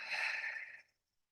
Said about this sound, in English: an open mouth exhale to release, let that breath go